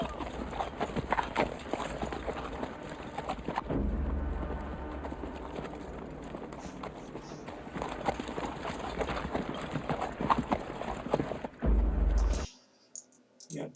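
Horses of the English knights charge in a battle scene from the film Braveheart, with rapid, continuous hoofbeats thundering loudly under swelling music, ending in a sudden cut to near silence.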